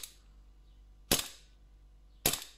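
A Sig Sauer P226 CO2 airsoft pistol with a cold magazine fires two sharp, isolated cracks about a second apart, each ringing briefly into near silence.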